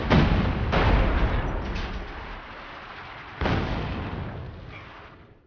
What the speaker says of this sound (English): scatter the enemy with light artillery